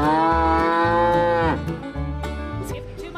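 A cow moos loudly in the dinosaur video game Jurassic World Evolution 2, one long, drawn-out low moo that fades into softer lowing.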